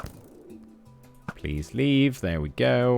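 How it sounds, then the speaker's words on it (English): A very loud seagull calls repeatedly just outside a window, its harsh, drawn-out cries dominating the second half after someone speaks briefly over quiet game sounds. "There's an extremely loud seagull outside my window."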